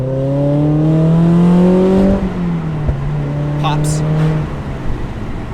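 A Mazda Miata NC fitted with a SuperQ exhaust pulls past nearby, its smooth engine note rising through the revs, then settling lower after a shift before fading, with a few short voice sounds near the end.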